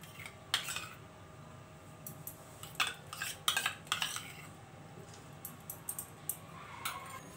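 A spoon stirs gram flour roasting in ghee in a pan, making quiet, irregular clinks and scrapes against the metal, close but faint.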